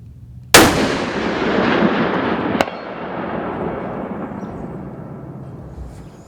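A muzzleloader rifle fires a single loud, sharp shot at a 600-yard range, and the blast rolls off into a long, slowly fading echo. A second, much fainter report comes about two seconds later, probably the distant impact.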